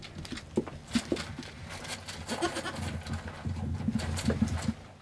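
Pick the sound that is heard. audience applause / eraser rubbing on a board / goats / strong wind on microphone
goats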